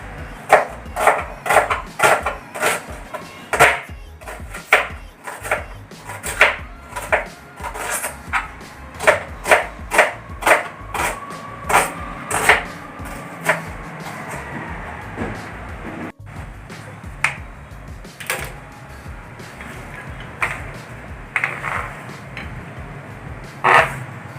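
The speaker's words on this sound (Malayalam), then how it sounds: "ഇനി നമുക്ക് നമ്മുടെ സവോളയും പച്ചമുളകും ഇഞ്ചിയൊക്കെ നുറുക്കി വയ്ക്കാം" Onions, green chillies and ginger chopped with a knife on a board, a long run of sharp, evenly paced taps close by with brief pauses, no voices.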